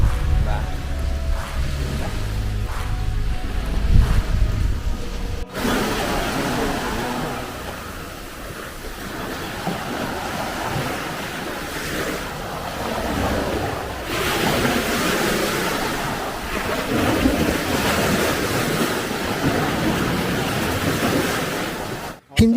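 Sea waves wash onto a quiet Boracay beach in a steady surf roar, with heavy wind buffeting the microphone; a louder, rumbly stretch opens the scene before the broad, even wash takes over.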